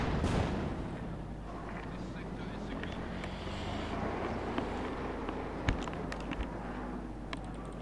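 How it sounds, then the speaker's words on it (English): Dense rumbling barrage of shell impacts and explosions as a Panzer IV bombards infantry in a 1v1 Company of Heroes 2 match, with scattered sharper blasts over a constant low roar and a commentator talking. "the men here trying to get through the smoke there are getting bombarded by the Panzer IV."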